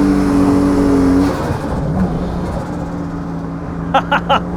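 A road-legal JDM drift car pulls away, its engine revving in a strong steady drone that drops off after about a second into a quieter cruising hum, with a few short sharp bursts near the end.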